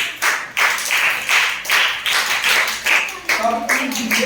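A class of students clapping together in a steady, even rhythm of repeated claps, close by and fairly loud.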